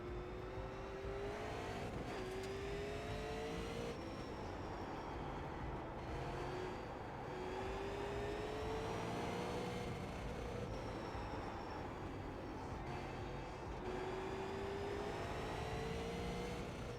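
Race car engines in the iRacing sim racing game, Legends and Super Late Model cars, a continuous loud drone of several engines whose pitch climbs and drops repeatedly through gear changes, with no talk.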